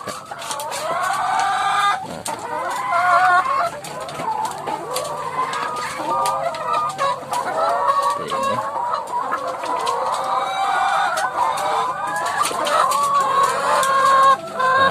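Chickens at an egg farm cluck and squawk continuously, a dense flock chorus with occasional crowing, loud and close throughout.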